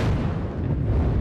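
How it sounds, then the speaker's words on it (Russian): A volley from the salute battery of the Peter and Paul Fortress in Saint Petersburg rumbles as a dense, sustained boom with a rolling, wind-buffeted roar, loud and distant-sounding with no talk. "Залпом салютной батареи Петропавловской крепости"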